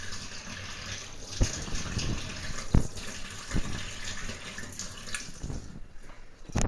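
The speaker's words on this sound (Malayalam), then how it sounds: "ഇത് നന്നായിട്ട് വെള്ളം ഒഴിച്ച് മിക്സ് ചെയ്യണം" Water poured over soya chunks and mixed by hand in a bowl, a close splashing, sloshing wash broken by several sharp knocks and squelches.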